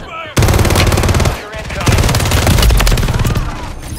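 Rapid automatic gunfire in the video game Call of Duty, loud dense bursts of machine-gun shots in quick succession with a short pause, then sustained firing, close and heavy with voices under it.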